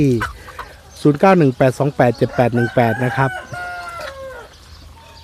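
Thai native village chickens, including yellow white-tailed and black-tailed breeds, cluck and crow on a backyard farm in Sisaket, mixed in with a voice speaking at close range.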